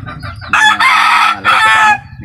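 A nearby bulik rooster used as a trapping decoy lets out a loud crow in a few sustained bursts with brief pauses, preceded by low background sounds and no speech.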